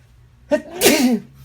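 A single loud, close sneeze, a quick intake of breath followed by a sharp burst, alone in a quiet room.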